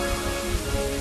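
Rain weather effect in Pokémon Black, a dense steady hiss of falling rain with soft patters, continuous and fairly loud over a low droning game tone.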